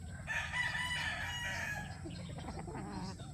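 A Boston broodstag rooster crows once, a clear, fairly close cock-a-doodle-doo, followed by softer clucking and rustling from nearby fowl.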